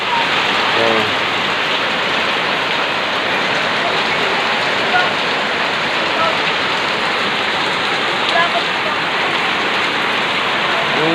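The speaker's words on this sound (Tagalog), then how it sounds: "ganyan kalakas ng ulan mga idol" Heavy rain pours down continuously in a dense, steady hiss, loud and unbroken throughout.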